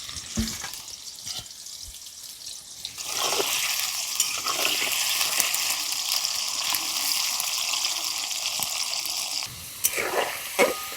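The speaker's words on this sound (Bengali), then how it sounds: "প্রথমে আলুটা ভেজে নেব" Potatoes frying in plenty of salted oil: a steady, loud sizzle that swells after a few seconds and holds, with occasional stirring clinks over it and no talk.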